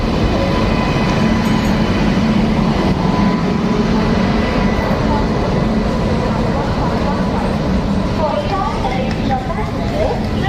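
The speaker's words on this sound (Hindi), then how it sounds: "हमारी ट्रेन आ चुकी है, अपने निर्धारित समय से 10 मिनट लेट है" Chetak Express train pulling into a station, a loud continuous rumble with rail clatter that fills the clip, with voices mixed into the noise.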